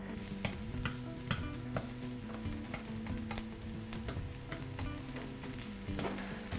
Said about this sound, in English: When you saute something, it's going at a medium-high heat or even a high heat, but you're moving it around so fast